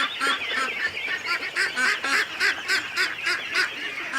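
A flock of ducks in a pen quacking loudly and insistently, with rhythmic overlapping honking calls close by and no talk over them.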